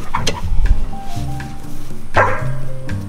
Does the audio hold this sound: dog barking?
yes